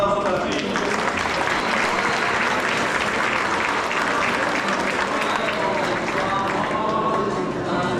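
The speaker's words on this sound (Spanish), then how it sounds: "Un aplauso para ti" Congregation applauding at a church baptism, a loud, thick burst of clapping with crowd noise and some voices mixed in, sustained and close.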